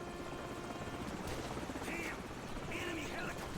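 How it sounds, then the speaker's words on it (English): An enemy helicopter in the Call of Duty 4 campaign thrums with a loud, continuous rotor chop, and short whistling game effects sound over it. "Enemy helicopter!"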